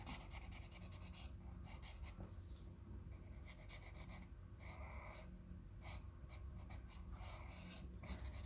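A thick-tipped pen colouring paper in quick strokes, giving a steady, close scratchy rubbing with short bursts and pauses throughout.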